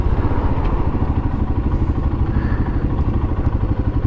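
Motorcycle engine running steadily close by while the bike is pushed through London traffic during a tube strike, a continuous low rumble with some clatter.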